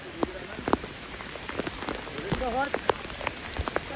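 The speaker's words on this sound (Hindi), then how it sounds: "बड़ी ही तूफानी बारिश हो रही है एकदम" Heavy monsoon rain falls at the Matheran hill station in a constant patter and hiss, with sharper drips scattered through it and a faint voice speaking briefly underneath.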